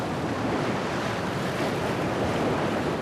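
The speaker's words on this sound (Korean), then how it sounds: "그런데 갑자기 바다가 거칠어지기 시작합니다." Rough sea roars in a steady, dense wash of surf and wind from aboard a boat at sea off Cambodia, loud and continuous with no voices.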